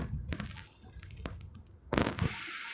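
A bomb goes off in the video game Poly War, heard as sharp popping blasts: a couple of small bursts early, then a louder, closer explosion near the end with a lingering tail.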